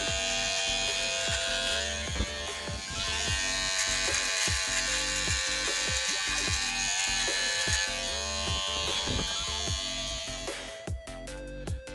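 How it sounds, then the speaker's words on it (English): Electric wall clippers with the lever open and no guard buzz steadily close by while cutting hair during a bald fade, with repeated short strokes and a few clicks near the end. "Next, I am using the wall clippers, lever open, no guard, and I'm going up about an inch, tracing that bald line"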